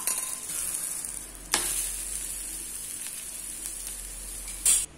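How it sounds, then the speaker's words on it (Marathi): Vangi thalipeeth, a flatbread made with leftover brinjal bharta, fries in oil on a hot griddle with a steady close sizzle and two brief sharp crackles, no talking. "तवा छान तापलेला आहे त्यामुळे लवकर शिजतो. तर यालाही बाजूने तेल सोडायचं."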